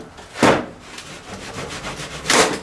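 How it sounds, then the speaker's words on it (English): Two loud, close handsaw strokes cutting through wood as a kitchen upgrade job is finished, with quieter rasping in between. "Handsaw, I think."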